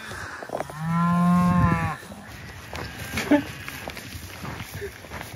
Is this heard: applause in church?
no